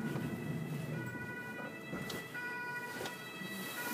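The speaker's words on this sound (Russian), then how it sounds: "Здесь, когда ездит скорая, это все немцы в рассыпную." An ambulance siren wails through steady traffic noise in Stuttgart, Germany, moderately loud and fairly close, its tone sweeping as the vehicle moves past.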